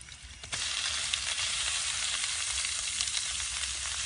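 Pork frying with garlic and ginger in a hot pan for Lao khoa me rat na, a loud, steady sizzle that surges as the meat goes in and then holds, with no talk.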